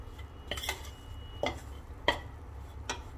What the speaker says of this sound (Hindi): अब इन आटे को हमें लम्स को ऐसे ख़त्म करते करते भूनना है अच्छे से।